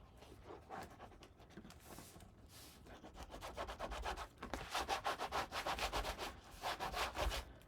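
A paper mat is rubbed down onto a mini album page with a burnishing tool, giving repeated scratchy rubbing strokes that start soft and grow louder and quicker in the second half, close up with no talking.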